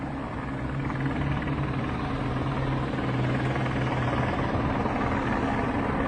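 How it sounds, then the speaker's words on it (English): A police helicopter hovers above a tree line, its rotor and engine producing a constant, dense drone that stays steady and fairly loud throughout with no voices. "This helicopter's just hovering here, just above the tree line."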